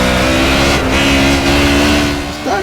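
A race car engine in the racing video game Project Cars revs loud and steady, holding a high droning tone throughout, close and with no talk.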